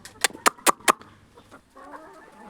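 Four quick, loud clucks from a nearby chicken on a house rooftop in a short burst, followed by quieter murmuring sounds.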